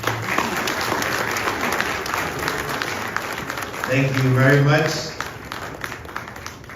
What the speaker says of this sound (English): A round of applause. That's well deserved.